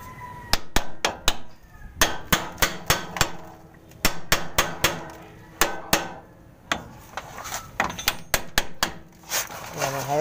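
Steel hammer striking a maxi brake chamber while its diaphragm is replaced with the unit still mounted: a rapid run of sharp, close metallic blows in uneven clusters across the whole stretch, with faint voices underneath.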